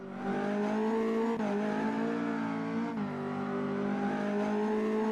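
In the Automobilista 2 racing game at Bathurst, a race car engine screams at high revs in a sustained, loud drone, dipping briefly twice as it shifts or lifts before climbing again.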